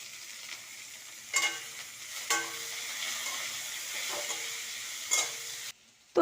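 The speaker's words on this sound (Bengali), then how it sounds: "রসুন কুচি, পেঁয়াজ কুচি দিয়ে আমি এটা একটু হালকা ভেজে নেব" Chopped garlic and onion fry in oil with bay leaves, dried chilli and cinnamon, giving a steady close sizzle with a few brief stirring scrapes and clinks.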